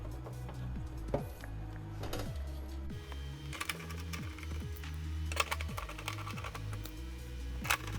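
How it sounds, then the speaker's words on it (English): Intake parts being screwed down on a BMW E36 M3 fitted with a swapped S54 engine and a Karbonius CSL intake, close repeated whirring bursts from a power driver with small clicks and taps between them, and no talking. "Now I'm screwing everything down"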